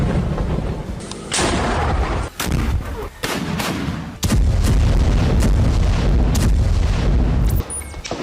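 Booming blasts and bursts of gunfire from Hamas rocket and mortar attacks on Israel, loud and repeated in quick succession with heavy rumbling between impacts.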